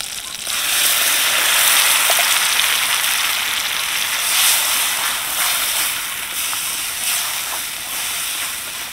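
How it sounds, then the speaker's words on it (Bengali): Coriander and spinach paste hits hot, oil-rich fried spice masala and sizzles steadily, a loud continuous hiss with faint crackles that carries on alone without pause. "এবার আমি দিয়ে দেবো ধনে আর পালং পেস্ট।"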